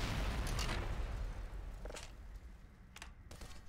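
An explosion from a missile launcher in the video game Black Mesa rolls out as a broad, rumbling blast that fades over a few seconds, followed by a couple of sharp, faint pops.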